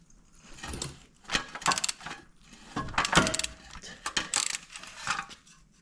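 A wrench clicks and ratchets in bursts while removing a 16 mm driveshaft support bolt on a Peugeot 307 CC 2.0 HDi, with irregular metallic clatter close by and no talk.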